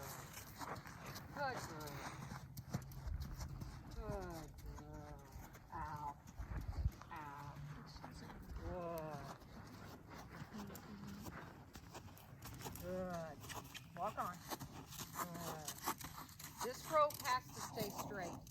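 Horse hooves clip-clop in a steady rhythm as a horse circles on a lunge line during a riding lesson, heard under near-continuous talk from an instructor giving commands and praise.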